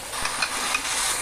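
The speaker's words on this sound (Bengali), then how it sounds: "এবার ভালো করে নাড়তে হবে যেন তলায় লেগে না যায়।" Chana masala stirred in a pan as it sizzles and fries, with a steady hiss of cooking and a few soft spoon scrapes against the pan, close and alone.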